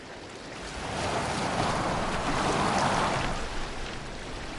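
Viking boat sailing on the water in Assassin's Creed Valhalla, with a broad wash of waves and wind swelling and holding steady, with no talk.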